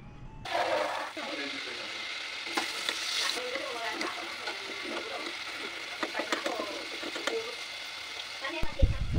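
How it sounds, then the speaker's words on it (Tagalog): Pork pieces fry in oil until golden brown for sweet and sour pork, giving a continuous close sizzle with scattered stirring clatter and faint bird coos in the background. "Ipa-fry nyo siya hanggang maging golden brown or hanggang maluto ito."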